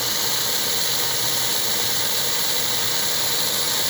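American Flyer Pacific model train with a ball-bearing drive axle and worm shaft, its motor running under load as a continuous steady whirring hum with a faint mechanical buzz, close and unchanging, with no talking.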